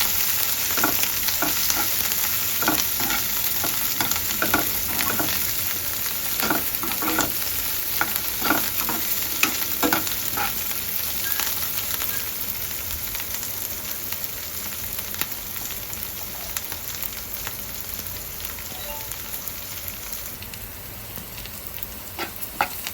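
Coriander frying in a pan for spicy Malvani chicken sukha, a continuous loud sizzle with rhythmic stirring clicks and scrapes through the first half, then steady frying alone.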